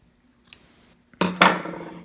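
Metal scissors snip through sewing thread on a romper garment, a faint first click followed by two sharper, close metallic snips in quick succession.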